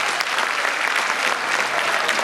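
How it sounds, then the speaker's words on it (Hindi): Sustained applause from staff at an institution's employees sports and cultural event during a prize-giving, dense and loud clapping close by that continues evenly without a break. "तालियां बजती रहनी चाहिए।"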